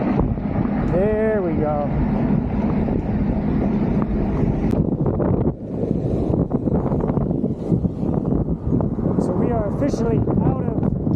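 Strong, steady wind buffets the microphone with a constant low rumble near the water in the Florida Keys. Someone talks over it.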